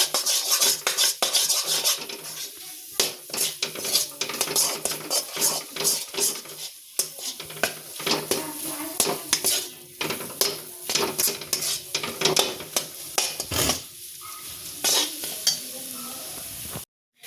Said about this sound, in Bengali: এবার আমি এটাকে আরও ভালো করে মিশিয়ে নেবো নুনটার সাথে